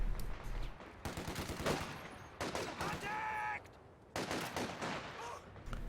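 Gunfire fills a Company of Heroes 2 battle in a dense, continuous stream of shots and bursts, loud and close, with a voice talking underneath.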